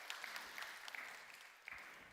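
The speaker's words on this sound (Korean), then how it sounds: "뜨거운 박수 부탁" A church congregation at a Sunday worship service applauds a visiting mother and daughter. The clapping is faint and steady and sounds somewhat distant, with a few sharper individual claps.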